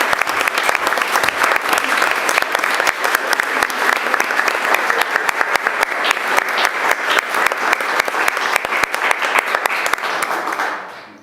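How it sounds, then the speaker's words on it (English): Sustained applause at a college board of trustees meeting, many hands clapping in a dense, even patter for about ten seconds before fading out at the end. "I did not want to cut that applause short."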